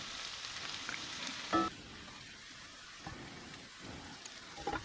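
Onion masala cooking down in a pan, a faint, even sizzle with a couple of brief clinks, quiet and without talking.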